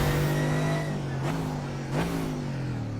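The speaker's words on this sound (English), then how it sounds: "I don't know if I'll ever get over how good that sounds on the downshift right there" Engine of a Mercedes AMG GT3 race car in iRacing at the Nürburgring, a loud steady drone with two quick downshift blips where the pitch jumps and then settles, heard alone.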